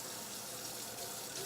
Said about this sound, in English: I like to take 2 cups of water